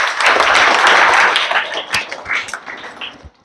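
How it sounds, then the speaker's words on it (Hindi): Students in a science classroom break into a short burst of group clapping, loud and dense at first and then thinning into scattered claps before it stops. "बहुत अच्छा, बजाओ ताली जी"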